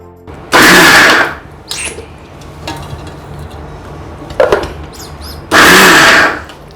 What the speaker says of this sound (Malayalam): ചതയ്ക്കാൻ വെച്ചാൽ മിക്സിയിലിട്ട് ഒരടി.